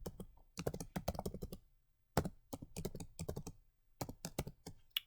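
Rapid clusters of key presses as an equation is entered on a graphing calculator, crisp and close, in bursts separated by short pauses.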